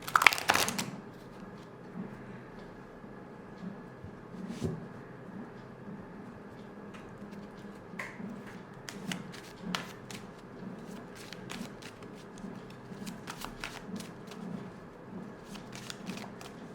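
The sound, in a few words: shuffling tarot cards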